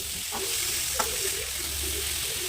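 Pre-boiled cauliflower fries in a pan for vegetable fried rice, a steady close sizzle with a few soft scraping stirs of a spatula, no talking.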